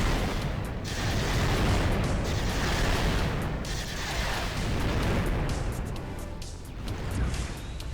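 A huge mech in a Garry's Mod Mechassault mod launches a barrage of missiles, producing a loud, continuous rumble of overlapping launches and explosions with booming bursts throughout.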